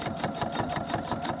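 A sewing machine with a quarter-inch foot stitches quilt sashing, a rapid, steady mechanical chatter of needle strokes at close range, quiet and uninterrupted.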